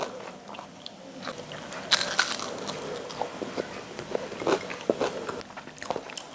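Close, crisp crunching as someone bites and chews double-fried eggplant coated in rice flour, with repeated brittle bites and chewing crackles over several seconds and no talking.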